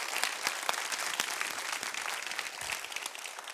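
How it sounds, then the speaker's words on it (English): Conference audience at a JavaScript event applauding: dense, steady clapping from a sizeable crowd, fairly loud and even throughout with no talk over it. "Please, let's all give them a round of applause."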